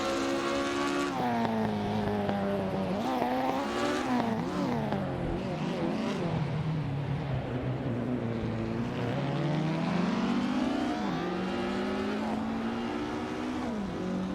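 In a video game, 1950s Formula One cars driven by AI race around the Bahrain Circuit, their engines whining and droning loudly without a break, pitch swooping up and down as they accelerate and shift gears.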